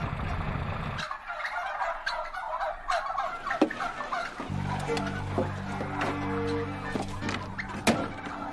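A flock of turkeys gobbles in repeated, overlapping bursts, loud and close, with a low mechanical hum coming and going beneath the calls.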